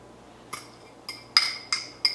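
A utensil stirring graham cracker crumbs with melted butter in a bowl gives five bright clinks against the bowl, irregularly spaced and growing sharper, in an otherwise quiet room.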